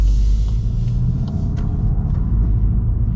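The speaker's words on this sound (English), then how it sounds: "let us see how the GTI drives with the automatic" A 2024 VW GTI with a DSG dual-clutch automatic drives along, giving a steady, loud low engine and road rumble with faint light ticks above, continuous throughout.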